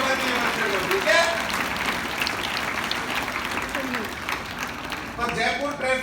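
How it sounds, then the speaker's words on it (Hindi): Schoolchildren at a traffic-awareness session at a convent school clap together in sustained applause, with voices calling out and talking over the clapping throughout. "एक बार तालियां बजाओ"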